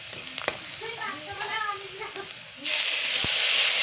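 Coriander powder fries in a pan for jackfruit curry. A soft voice is heard over a low crackle at first, then a loud, close, broadband sizzle swells up suddenly and holds steady to the end.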